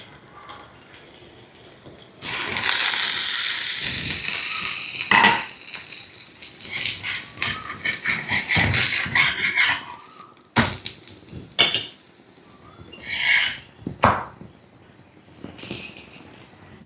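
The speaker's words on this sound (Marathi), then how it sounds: "आता हे पलटी करूयात आणि सेम अशाच पद्धतीनं हे दुसऱ्या बाजूला देखील भाजून घेऊयात" Poha thalipeeth is flipped and roasted on an oiled griddle, with close scraping and rattling of a spatula against the pan, sizzling in between, and sharp clatters at irregular moments, no talk.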